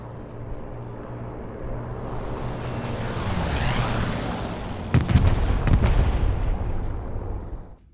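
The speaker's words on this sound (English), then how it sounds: "It looks like that the explosion from these two bombs are smaller to the Stuka" Bombs from an air strike explode in the World War II shooter game Hell Let Loose, a heavy rumbling blast that swells and then breaks into a sharp cluster of booming detonations near the end, with no voices.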